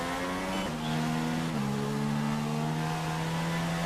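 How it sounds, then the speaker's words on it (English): Formula One race car in the F1 2016 video game at Bahrain, engine held at a steady high pitch for a practice race start, with a sudden pitch shift as it revs and shifts, with no talk. "Just practicing the race start here."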